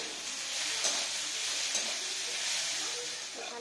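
Potatoes fry in a pan with a steady, continuous hiss and sizzle, close and fairly quiet, with occasional soft stirring scrapes and no one talking.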